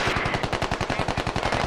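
Rapid automatic gunfire in the Squad military shooter, a steady stream of evenly spaced shots that rattles on without a break, loud and near.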